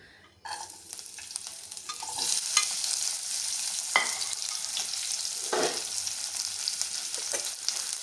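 Onion, chilli and garlic fry in oil in a kadai, giving a steady sizzle with scraping stirs and a few clinks of a spoon against the pan. No one speaks.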